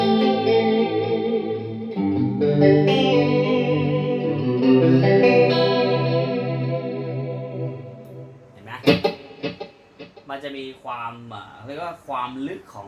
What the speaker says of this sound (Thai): เราจะใส่พวกดีเลย์รีเวิร์บคอรัสเข้าไปนะครับ